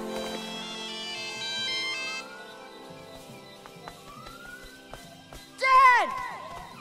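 Satellite phone in Lego Jurassic World playing a store jingle ringtone, a melodic run of notes that fades away, with a short loud cry near the end.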